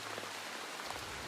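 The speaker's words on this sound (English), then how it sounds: "let the sound of rain keep you company" Steady rain patters densely on a surface, a constant close hiss with no other sounds over it.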